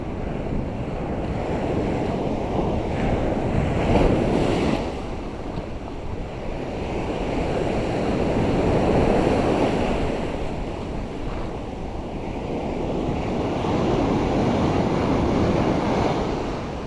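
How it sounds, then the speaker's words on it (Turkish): Sea waves swell and crash along a Black Sea shore at Karasu during a fishing outing, a loud continuous roar that surges and ebbs in slow cycles, buffeted by heavy wind noise on the microphone. "Dalgalar iyice yükselmiş durumda."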